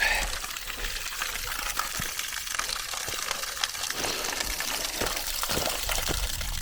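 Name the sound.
water pouring from a mountain water point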